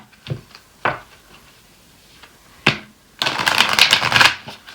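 Akashic Record oracle cards being shuffled by hand: a few short riffling bursts, then a longer dense crisp flurry of card slaps near the end, close and clear with no talking.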